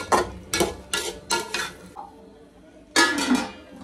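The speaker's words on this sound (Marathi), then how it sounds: "आता पुन्हा एकदा जरा झाकण ठेवते" Metal clinks and knocks ring out as a lid is set on a cooking pot of chicken dum biryani, several sharp hits in a row, a pause with a faint tap, then another clatter.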